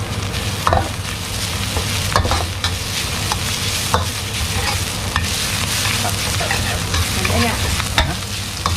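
Thai red curry paste stir-fried in a pan for an Isan-style spicy stir-fry: a steady, loud, close sizzle fills the whole stretch, broken by scattered scraping and tapping from the spatula, with no talking.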